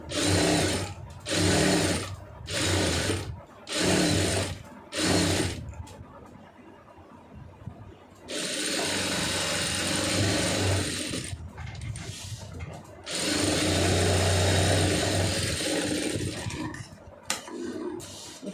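A sewing machine stitches around a gathered puff sleeve of an Aari blouse in short, loud mechanical bursts with brief pauses, then two longer steady runs of whirring stitching.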